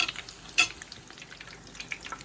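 A bacon and shrimp egg foo young patty fries in a pan with a steady, crackly sizzle, broken by one sharp utensil clink near the start and a few smaller pops.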